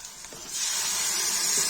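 Red chili sizzling in hot oil in a pan for Kashmiri-style baingan tamatar sabji, a soft hiss that swells after a brief quieter start and then holds steady, close and alone.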